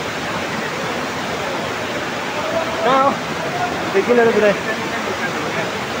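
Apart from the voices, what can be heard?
Namaste waterfall in Dhankuta, Nepal, water falling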